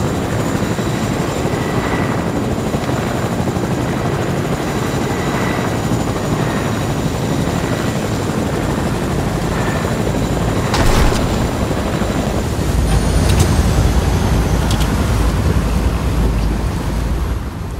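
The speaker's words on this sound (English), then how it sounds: "by helicopter." Helicopter rotor noise in the Fortnite video game, a steady continuous whir running throughout under wind-like roar, growing slightly louder toward the end.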